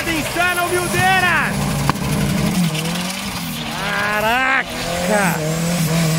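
Tires spin and squeal on a twin-turbo Chevy GMC running an Astra engine, with a loud, sustained engine drone and rising-and-falling screech bursts over excited shouting.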